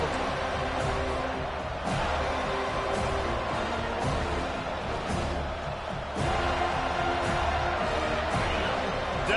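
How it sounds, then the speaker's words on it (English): A stadium crowd in the College Football 25 video game roars steadily and loudly during a third-down defensive stand, a dense continuous wash of cheering with occasional sharp thumps, under an announcer's play-by-play talk. "Decibels rising as the crowd gets behind this defense on 3rd down."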